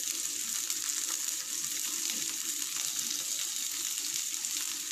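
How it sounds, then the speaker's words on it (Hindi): Chopped onions frying in a pan for corn palak (spinach corn) curry, a steady close sizzle lasting throughout with no talk. "अब इसमें हम प्याज डाल देंगे, चॉप प्याज जो है वो हम इसमें डाल देंगे, और प्याज को हम ब्राउन कर लेंगे"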